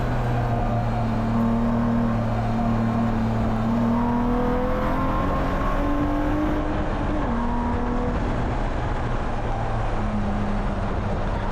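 Spec E46 BMW race cars lap a circuit at Willow Springs, a steady wash of engine drone with overlapping tones rising and falling as cars pass at a distance, continuous throughout with no talk.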